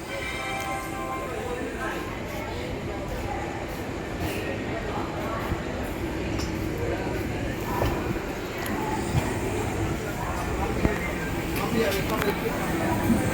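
A night train bound for Malda rumbles along steadily at moderate volume, a continuous rolling noise with faint clanks and murmuring voices underneath.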